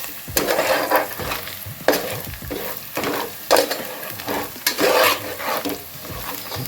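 Spices and chili powder frying in a pan for crab curry, loud close sizzling with rhythmic stirring and scraping bursts about once a second.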